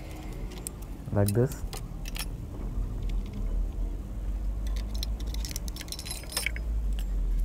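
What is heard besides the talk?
removing metal clutch plates from a Royal Enfield engine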